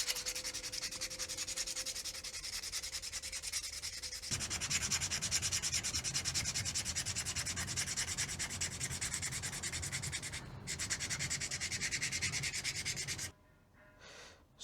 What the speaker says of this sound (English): This should be a 150 grit sandpaper.